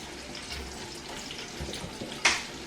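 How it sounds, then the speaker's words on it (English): Water poured into a blender over stew-base ingredients with fresh thyme and rosemary: a faint, steady liquid wash with a brief louder splash near the end. "So I'm going to add a bit of water into it"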